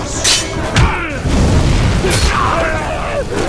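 Fire whooshing and bursting up after an oil roast attack in Shadow of Mordor, with loud booming flare-ups and crackling bursts, mixed with grunts and game combat noise over several seconds.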